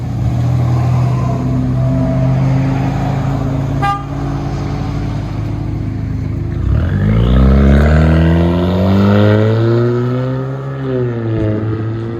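A straight-piped 2021 Chevy Silverado with the 2.7L turbo engine idles loudly, then revs up in a rising, sweeping roar that peaks and settles back, close and unmuffled.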